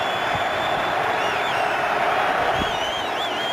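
A stadium crowd at a 2012 Rams vs Bears NFL football game makes a steady, distant roar. The broad, sustained crowd noise rises slightly to a cheer, with a whistle-like tone over it.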